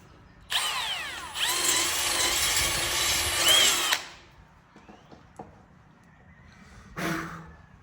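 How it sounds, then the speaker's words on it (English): A power drill reams out a mounting hole for an LED light bar on a mower or ATV, whirring in a loud burst of about three and a half seconds, then a few faint clicks and a brief final spin. "It looks like I need to ream that out just a little bit."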